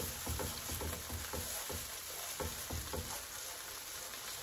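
Garlic and onions fry in a pan, a close, quiet, steady sizzle with soft rhythmic stirring scrapes from a utensil.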